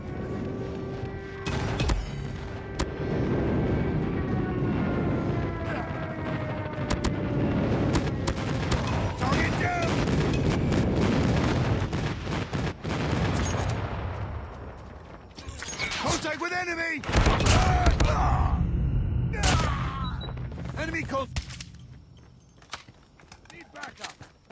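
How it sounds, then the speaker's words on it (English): Airstrike explosions in the CoD Mobile video game, on the Hovec Sawmill map, arrive as heavy booming blasts and crackling gunfire over a steady battle din, with voices talking through much of it. "Friendly airstrike incoming."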